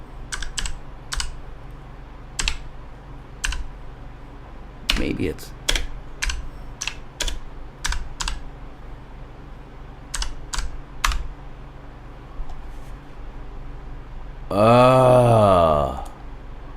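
Scattered keystrokes clack on a computer keyboard, close and crisp in short irregular bursts, while a man mutters briefly and lets out a long drawn-out groan near the end.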